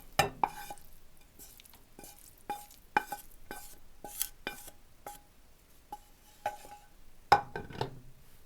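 A spoon scrapes and knocks against a bowl while a sandwich spread is mixed, giving repeated light clinks at an uneven, steady rhythm, close by and soft, with no voices.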